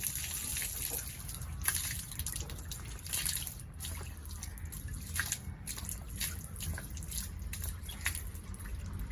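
Water splashes and trickles steadily close by as the mouth is rinsed during wudu ablution, with running tap water, drips and small gushes under a constant wash.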